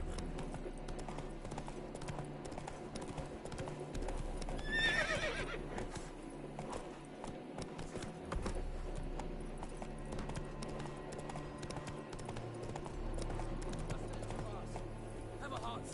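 Hoofbeats from Roach, Geralt's horse in The Witcher 3, thud steadily through the whole stretch under a low game ambience, with a brief whinny around the middle and voices talking nearby.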